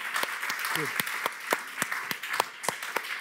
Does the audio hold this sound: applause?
yes